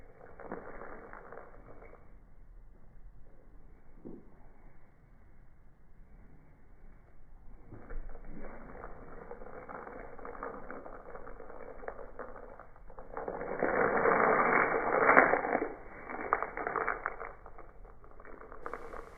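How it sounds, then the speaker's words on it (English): Lead shot shifting and trickling inside a homemade rain stick weapon, a soft continuous granular patter that swells into a louder rushing cascade near the end, with no voices. "You can even hear the shot moving from just slight adjustments before I swing."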